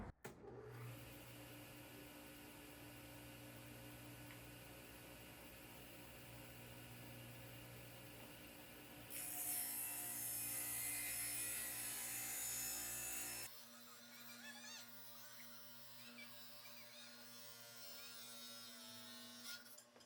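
A table saw rips through scrap wood with a loud, steady whine and rough cutting noise, swelling sharply for a few seconds near the middle as the piece kicks back, then the motor winds down.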